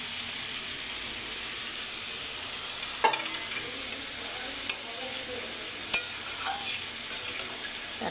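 Tengra fish pieces and water go into a simmering bottle gourd curry, giving a steady soft sizzling hiss broken by a few sharp knocks of a utensil against the pan. No one speaks.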